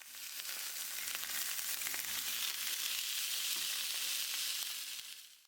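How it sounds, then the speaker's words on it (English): Veal chops sear in hot avocado oil in a cast iron skillet, giving a loud, close, continuous crackling sizzle that fades away at the end, with no talk. "I'm searing these veal chops at a high temperature"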